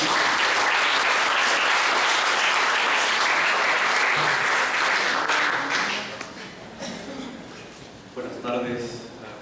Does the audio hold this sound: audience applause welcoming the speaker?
yes